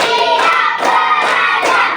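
Children in a third-grade classroom play a counting clapping game, clapping their hands in quick rhythmic bursts that come in three clear groups, close and loud, with no talking.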